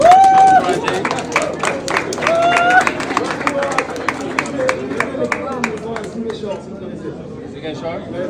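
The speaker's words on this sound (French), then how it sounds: "Et vous applaudirez ça, il faut encourager." Audience applause at a talk on plant-based electricity, dense clapping from a crowd with voices and babble mixed in, steady and fairly loud, thinning slightly toward the end.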